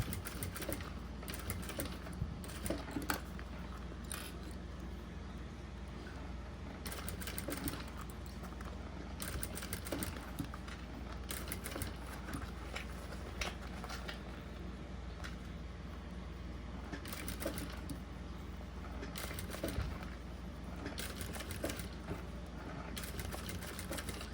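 A sewing machine stitches a unicorn pencil case and runs a short backstitch, producing repeated bursts of rapid mechanical ticking with brief pauses between runs, close by and steady in level.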